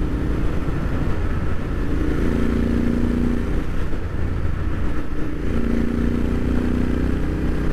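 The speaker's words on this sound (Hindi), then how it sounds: "ये एग्जॉस्ट वाकई में बहुत सही है यार बहुत सही" A Royal Enfield Interceptor 650 cruises along with its exhaust giving a steady, even engine drone that holds for nearly eight seconds, close and continuous with no voices.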